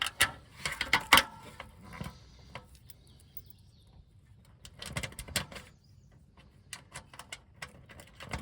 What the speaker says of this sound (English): And I'll use this wrench that they provided for a little bit of it.